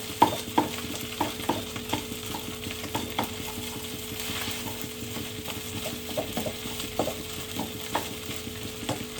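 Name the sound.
rice and onions frying, being broken up in pan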